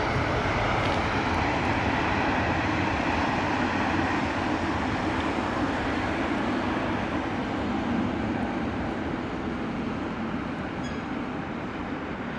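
An SAS Airbus A320 jet at London Heathrow Airport gives a continuous, loud, broad engine roar that holds steady for the whole stretch with no pauses.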